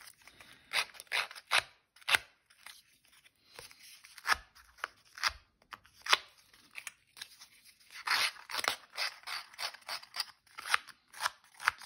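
Scissors snip and crunch repeatedly along the edges of a paper tag, distressing them in irregular close-up bursts of sharp cutting and scraping, with no talk.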